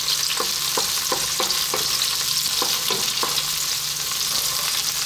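Olives sizzling steadily in a hot pan over medium heat, with a continuous bright frying hiss and a run of regular light clinks or stirs spaced about a third of a second apart.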